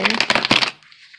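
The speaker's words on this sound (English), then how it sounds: "One more shuffle." Tarot cards riffle-shuffled in a short, close burst of crisp papery flutters that stops abruptly, leaving a faint hiss.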